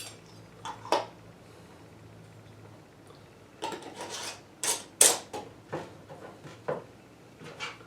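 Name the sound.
putting lids on jars of pineapple moonshine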